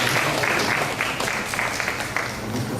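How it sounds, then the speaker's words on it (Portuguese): Applause for a student named Mariana in a Bible institute class, steady dense clapping from a small group for about three seconds, with a voice faintly mixed in. "dá uma salva de palmas para Mariana"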